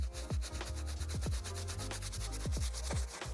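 Stiff brush scrubbing dust from the textured midsole of a Reebok shoe, quick repeated scratchy strokes in an uneven rhythm, close up and alone.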